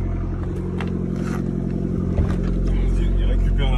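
Car engine running steadily and close by, a low rumble that rises slightly as the vehicle pulls away, with people talking over it.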